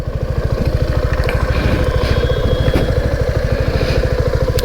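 A Suzuki V-Strom SX 250 motorcycle engine idles steadily nearby, a loud, even rapid thumping pulse with faint mechanical rattle over it.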